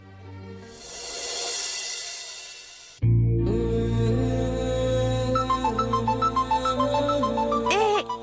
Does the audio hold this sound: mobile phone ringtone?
yes